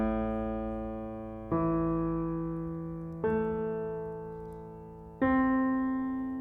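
Four sustained piano notes or chords sound one after another at an even, slow pace, each ringing out and blending into the next with the right sustain pedal held down, played softly with no talking.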